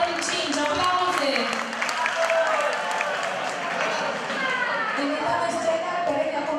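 An audience at a high school freshman ball applauds and cheers, a continuous wash of clapping mixed with crowd noise and excited young voices talking and shouting throughout.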